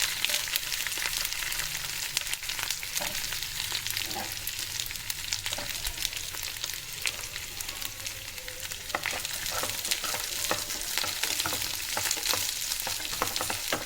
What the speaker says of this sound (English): The capsicum is just getting cooked. In fact, it has to be fried or roasted.